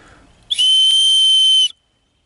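A single loud, shrill survival whistle blast held for about a second, then silence.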